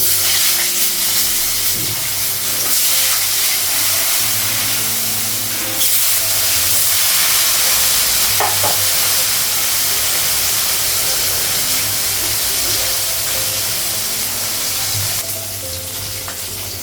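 Meat frying in a pan on a gas stove, a steady loud sizzle running continuously throughout with occasional stirring clatter and no talking.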